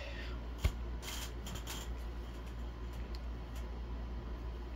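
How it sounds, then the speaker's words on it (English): Trading cards flip and riffle one after another in a quick, dry shuffling patter, close by against a steady fan-like background hiss. "I'm literally looking through every card in this set now to find that one card."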